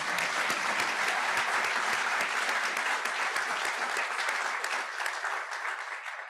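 An audience claps steadily for several seconds, a dense patter of applause that slowly thins toward the end.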